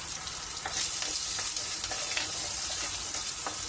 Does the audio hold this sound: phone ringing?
no